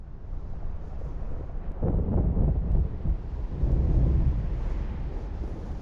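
Thunder rumbles in a quadraphonic ambience bed with wind in an Unreal Engine 5 demo, deep rolling booms swelling twice over a constant gusty wash.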